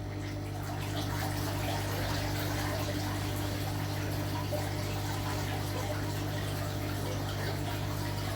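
Water gushes steadily out of the opened bottom valve of a pond reactor filter, a continuous broadband rush with a low mechanical hum beneath it, fairly close and unbroken throughout, with no talking.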